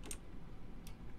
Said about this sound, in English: Now she's walking on my keyboard.